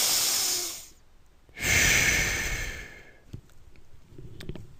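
Human breathing in and out: a loud, close airy inhalation, a short pause, then a long forceful exhalation, followed by softer breaths.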